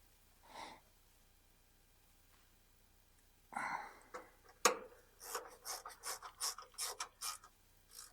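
Bolts are fitted on a 1958 Willys DJ-3A: a soft scrape, then close, quiet bursts of rapid ratcheting clicks and metallic rubbing, with no talk.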